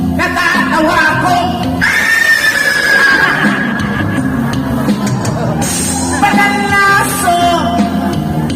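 A horse neighs repeatedly, with loud whinnies rising and falling over a busy outdoor background of voices and movement.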